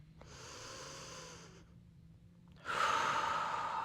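Slow, deep breathing during a gentle yoga stretch, a long soft exhale followed by a pause and then a louder, breathy inhale, close and quiet.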